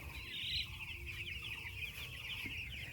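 Farm chickens cluck and chatter continuously in a faint, distant chorus, a busy overlapping murmur of birds with no clear single call standing out.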